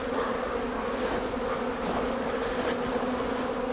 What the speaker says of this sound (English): They buzzing and jumping.